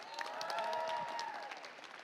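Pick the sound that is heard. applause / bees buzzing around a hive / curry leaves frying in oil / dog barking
applause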